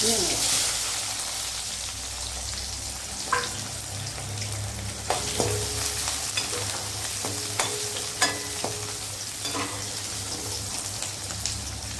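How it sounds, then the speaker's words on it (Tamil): Small onions and fenugreek seeds fry in oil in a pan, giving a constant bubbling sizzle with sharp spoon-and-pan clinks from stirring that come more often in the second half. "வெங்காயம் வெந்தயம் வெங்காயம் பொறிக்கிட்டோம்"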